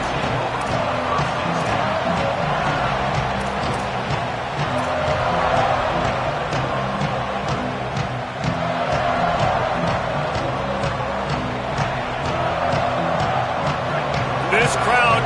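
A college football stadium crowd at an LSU versus Ohio State game roars as a steady, dense wash of noise beneath continuous play-by-play commentary.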